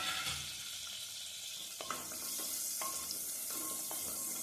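Small onions (shallots) frying for sambar rice, giving a continuous hiss of sizzling with occasional soft clicks of a stirring utensil, close and fairly quiet, no talk.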